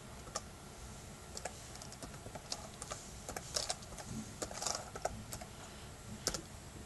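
Computer keyboard being typed on to enter an IP address, a quiet run of close, irregular key clicks with brief pauses between groups of keystrokes.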